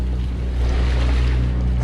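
Catamaran motor sailing at about 6.5 to 7 knots on flat water in the Sea of Cortez, a steady low engine drone under rushing water and wind noise, loud and close.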